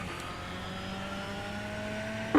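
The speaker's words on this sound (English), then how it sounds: "getting back on the throttle right about here and heading up to complete your very first lap" A VW Beetle rallycross car in the iRacing game at the Lucas Oil track hums with a steady engine drone as it gets back on the throttle, its pitch rising only slightly, heard alone at moderate level.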